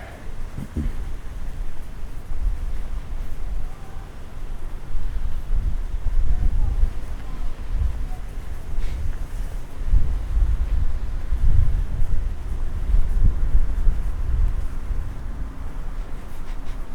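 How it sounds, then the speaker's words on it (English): Strong gusting wind buffets the microphone in low, rumbling surges that rise and fall throughout, with a faint airy hiss beneath, at night in Dobbs Plaza. "But it is really windy."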